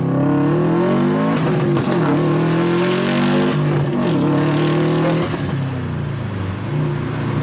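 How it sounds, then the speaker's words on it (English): A car in Sport Sharp mode accelerates hard through first gear and into second, the engine note climbing loudly, dipping at each shift and rising again, heard from inside at close range with no talk. "We're gonna do a quick first and second gear pull in Sport Sharp now."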